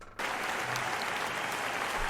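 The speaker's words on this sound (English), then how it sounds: "big round of applause for everyone you've seen tonight" Sudden burst of applause at a comedy night that starts after a brief pause and stays dense and even, filling the room with steady clapping.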